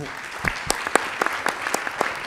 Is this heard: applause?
yes